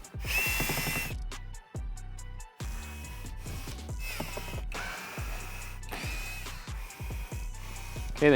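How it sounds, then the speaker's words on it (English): A power drill backs out 8mm screws from plastic trim on a BMW M5 F90, with repeated short whirring bursts, rattling clicks and brief pauses between screws, close and fairly quiet. "So at this time, remove all of the screws that secure this in place."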